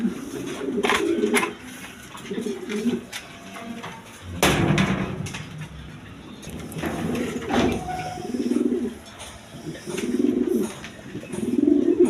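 Lahori pigeons for sale coo in repeated soft, throaty bursts close by, a pair calling in uneven rhythm with brief clatters and pauses between phrases.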